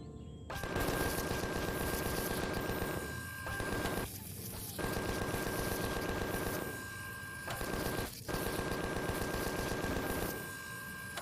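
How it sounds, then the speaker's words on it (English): Sustained rapid automatic gunfire aimed at spiders in Empyrion, dense rattling bursts broken by short pauses, loud and steady with a faint constant tone underneath, no voices. "Let's go over and shoot the spiders."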